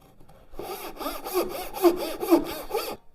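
A dovetail saw cutting a wood halving joint down to a marked line, steady back-and-forth strokes in an even rhythm, about six close, clear rasping passes with no talking.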